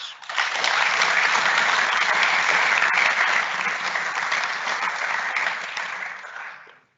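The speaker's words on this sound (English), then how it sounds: "Please join me in celebrating Inma with a warm round of applause." School assembly audience at a college speech day breaks into warm, loud, even applause that holds steady for several seconds before tapering off abruptly.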